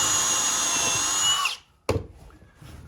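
Power drill boring a pilot hole into wood while fitting a custom door jamb kit on an antique door: a steady high whine for about a second and a half, cutting off abruptly, then a sharp knock and faint handling noise.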